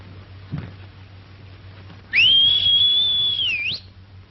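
A person's single loud, sustained whistle calling a horse, held steady for over a second and ending with a quick upward flick, against quiet background.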